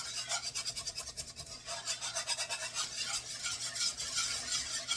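A spoon scraping and stirring a roux over medium heat in a small cast iron Dutch oven, with rhythmic rasping strokes close up and a light sizzle beneath, no talking.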